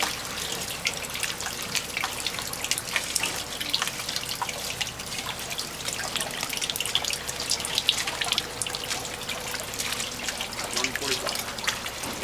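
Water dripping and trickling from a wet sling as a big tarpon hangs on a scale at a fishing tournament weigh-in, a steady patter of drops that runs the whole time beneath people talking.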